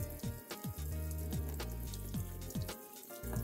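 Faucet water flows into a bathroom washbasin to rinse away kitchen cleanser after scrubbing off limescale and soap scum, a faint, continuous running splash behind light music.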